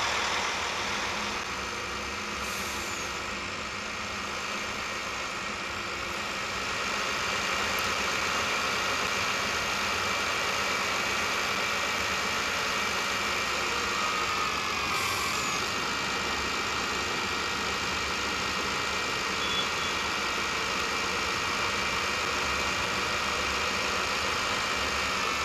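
A tractor engine idles and runs steadily in Farming Simulator 20, a constant mid-pitched drone that holds at an even level throughout with no voices.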